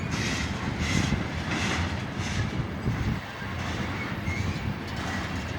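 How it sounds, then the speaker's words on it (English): Long freight train of BNSF tank cars rolling past in Piscataway, a steady loud rumble and rhythmic wheel clatter close by, with wind buffeting the microphone. "And I spy another train coming."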